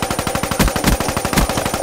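Rapid automatic gunfire in the Call of Duty: Black Ops III multiplayer game, a loud, close, evenly spaced burst of shots that continues throughout without a break.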